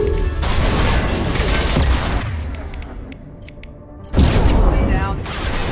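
Video game gunfire crackles in dense bursts, loud and close, easing into a quieter stretch with sharp clicks before a heavy burst returns; a voice talks over it.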